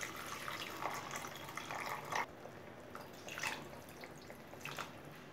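Water is poured into a tamarind garlic curry cooking in a pan, a steady splashing rush that cuts off and gives way to softer trickling and faint liquid sounds.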